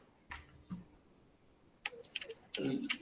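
Computer keyboard typing during an online discrete structures and graph theory lecture, heard as faint scattered keystrokes early on, then quicker clusters of clicks toward the end, fairly close and without speech.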